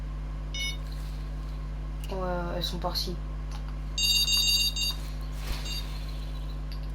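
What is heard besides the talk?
carp fishing bite alarm beeping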